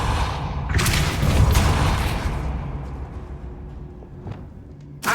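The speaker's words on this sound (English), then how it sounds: "Depulso." Depulso spell cast in Hogwarts Legacy: a deep whooshing boom with a rumbling tail that fades over a few seconds, followed by a small sharp impact near the end.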